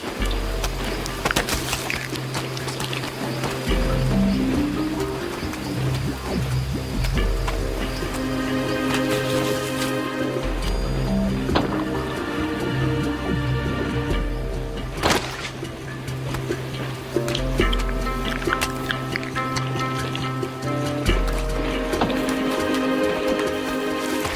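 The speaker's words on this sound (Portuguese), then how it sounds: "Não são apenas as torrentes de água vindas de cima." Heavy rain pouring and dripping in a Brazilian forest, a steady dense hiss of drops on leaves and ground, loud and continuous with a musical score underneath.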